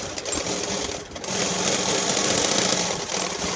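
A sewing machine stitching a V-collar neck suit, a fast steady mechanical whir with dense needle clatter, close and loud, briefly easing off before running on continuously.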